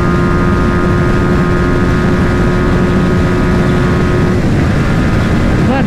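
Royal Enfield Guerrilla 450 motorcycle engine pulling steadily in sixth gear during a drag race against a BMW G310R, a continuous loud drone with heavy wind rush and a steady engine tone throughout.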